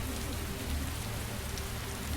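Steady rain falling in the video game Torment: Tides of Numenera, an even, unbroken wash of drops with no voices over it.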